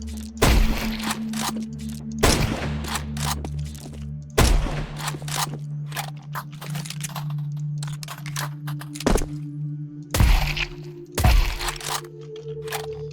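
Several loud, sharp gunshots from Counter-Strike 2, played on a CSStats workshop warm-up map, come in short bursts with gaps between, over a steady low game hum.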